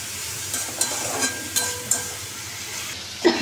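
Bitter gourd frying in a pan, a continuous close sizzle punctuated by several scraping stirs of a spatula, with a louder clatter at the end.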